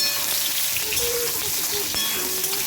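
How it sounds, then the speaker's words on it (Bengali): Eggplant pieces fry in hot oil in a pan with a steady, close sizzle, broken by faint bubbling pops and the occasional scrape or clink of a utensil. "এবার আমি একটা একটা করে সব বেগুনগুলোকে ছেড়ে দিচ্ছি বেগুনটা ভালোভাবে ভাজা হয়ে যাবে"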